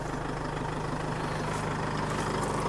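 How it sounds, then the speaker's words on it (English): A 60 series Land Cruiser engine idles in a steady, even low rumble, close and continuous, with no talk. "The main thing for us is that engine is healthy, starts and sounds really nice."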